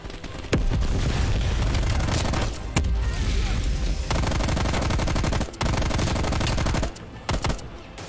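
Shotgun fire in Call of Duty Black Ops Cold War, heard during a campaign firefight: heavy, dense gunfire that runs almost continuously, with a few brief drops and sharp blasts punctuating it.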